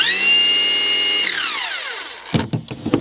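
Milwaukee M18 Fuel battery string grass trimmer whining at high speed, a steady high-pitched motor tone that spins down after about a second, followed by a few close clunks and handling knocks.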